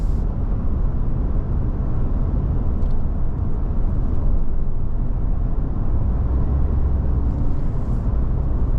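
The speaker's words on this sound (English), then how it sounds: "Now we got it up to almost 70. You get a little bit more wind noise, but not bad." A 2025 Ford F150 XLT Hybrid PowerBoost pickup cruises at nearly 70 mph, filling the cabin with a steady, even roar of road and wind noise that stays constant throughout, with no talking.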